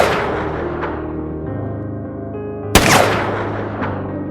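Gunfire rings out at a military guard post by an ammunition depot: one sharp, loud crack over a low rumble, followed about a second later by a fainter second shot.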